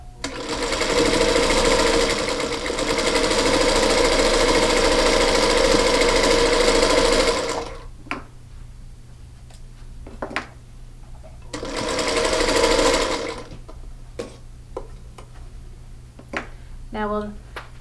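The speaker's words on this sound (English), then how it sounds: "you'll take it to your sewing machine and top stitch approximately 1/4 of an inch from the edge" A sewing machine top stitches a travel tissue holder about 1/4 inch from the edge, running steadily for about seven seconds, pausing amid quiet clicks, then stitching again in a shorter burst, loud and close.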